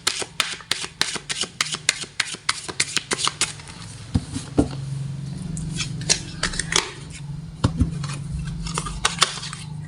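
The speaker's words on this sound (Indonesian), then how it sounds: "shuffle kartunya" Tarot cards are shuffled up close, a quick run of crisp, papery flicks and riffles in uneven bursts, then a softer, looser patch before the snapping resumes, with no voices.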